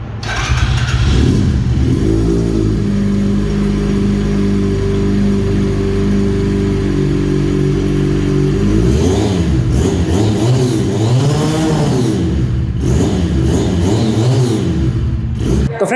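A 2023 Ducati replica 400 cc motorcycle engine idles with a steady, loud rumble close to the microphone, then revs up and down through several throttle blips before settling again.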